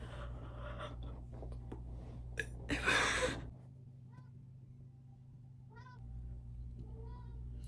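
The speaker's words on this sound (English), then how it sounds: "My cat's crying in the hallway" Indoors, a house cat cries in a hallway with a few short meows, one louder burst near the middle, over a low steady hum; the room is otherwise quiet.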